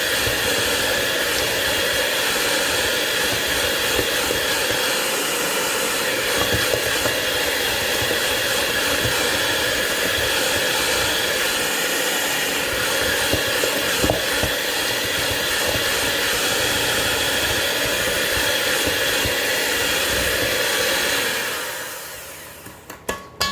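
An electric mixer whirs steadily while beating toffee chocolate cookie batter, a loud, continuous motor hum with a grinding hiss that runs unbroken for about twenty seconds before stopping abruptly.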